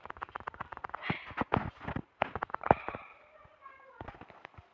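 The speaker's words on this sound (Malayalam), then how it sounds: "നമ്മുടെ ഫ്രണ്ടിൽ ആരോ വെടിക്കണ ഗൈസ്" Gunfire in a video game comes as a rapid series of sharp cracks and bursts, some close and loud and others fainter, with occasional pauses between volleys.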